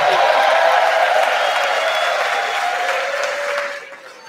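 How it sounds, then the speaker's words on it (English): An audience at a high school celebration for a basketball coach applauds, a dense and loud wash of clapping that holds steady for several seconds and then fades out near the end. "Let's give him a round of applause."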